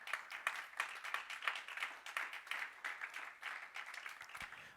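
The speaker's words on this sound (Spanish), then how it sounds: "¿Cuánto le dan palmas al Señor?" A church congregation clapping together for the Lord during a sermon, a rhythmic, fairly even stream of many hands beating in time for several seconds, with faint voices mixed in.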